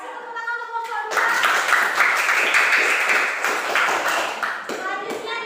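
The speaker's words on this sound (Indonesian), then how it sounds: "Kasih tepuk tangan untuk kelompok 2." Students in a classroom give a group of classmates a burst of applause lasting several seconds, many hands clapping close by, with a voice heard just before and after.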